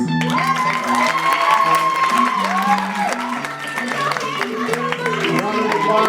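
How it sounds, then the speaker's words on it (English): A poetry slam audience applauds its musicians, with clapping mixed into loud cheering, whoops and sustained shouted voices that rise and fall throughout. "I want to give a round of applause to our musicians."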